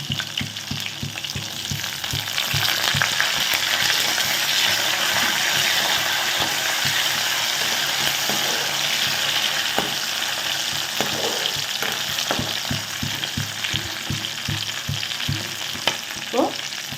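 Sliced garlic, green chilies and curry leaves frying in oil in a pan, a steady close sizzle with soft ladle stirring clicks throughout and no speech.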